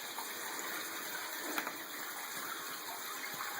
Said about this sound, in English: So we turn the water on.